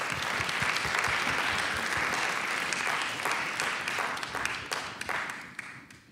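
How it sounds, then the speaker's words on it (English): An audience applauds as speakers are called to the stage at an abolitionist congress, steady dense clapping filling the room for about five seconds before thinning out and fading near the end. "Please have applause for them."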